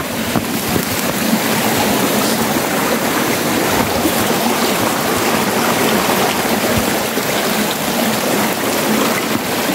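Flowing stream water, a dense, continuous rushing wash that stays loud and steady from start to finish, with no talking over it.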